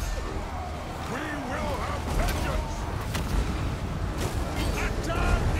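Artillery shots lobbed onto enemy troops in the Total War: Warhammer strategy game, heard as dull booms and mechanical creaks within a dense, continuous battle din of clashing and distant fire.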